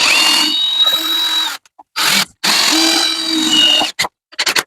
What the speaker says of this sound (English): we're going to take the screws off.